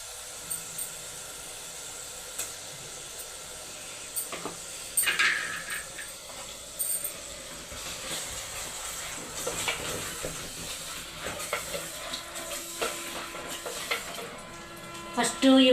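Ginger paste frying in a pan as a curry is started, with a steady sizzle and intermittent scraping and stirring clinks of a utensil against the pan throughout, busier toward the end.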